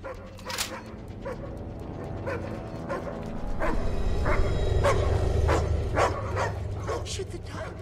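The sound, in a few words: dog barking in an action film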